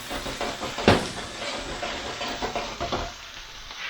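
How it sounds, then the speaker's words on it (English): Mushrooms sizzle in hot oil in a pan, a steady bright hiss broken by scraping, sliding rattles as the pan is shaken back and forth, with one sharper clatter early on. "once they're all in there, give the pan a little shaky, slidey"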